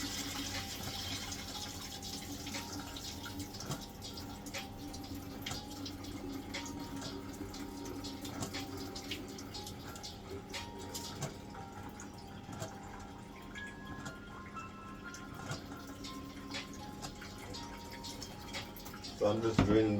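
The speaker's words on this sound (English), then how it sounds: "So I'm just draining that water off the rice because you don't want to overdo the water." Water poured off washed rice into a sink, a steady running trickle and splash throughout at moderate level, ending with a short louder rush.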